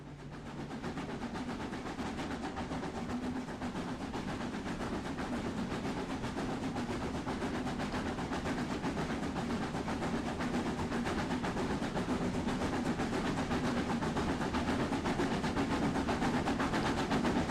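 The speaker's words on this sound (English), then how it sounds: "I initially thought the train was a little overpowered." A steam locomotive runs steadily on the Brocken line in a train simulator game, a continuous rumbling rail and engine roar holding at an even, fairly loud level throughout with no talk.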